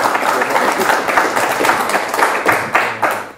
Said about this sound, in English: I think a round of applause for both our speakers